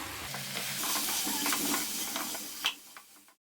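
Chicken with black pepper and cumin powder being stirred in a pan for an Assamese-style gravy: close, lively sizzling with scraping spatula strokes and a bright clink near the end before the sound drops away.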